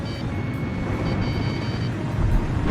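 Fighter jets roar through a ravine in the PS2 combat flight game Ace Combat 5: The Unsung War, a loud continuous rushing engine drone that swells slightly toward the end.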